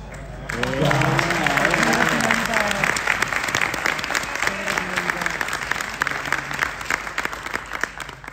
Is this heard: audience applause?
yes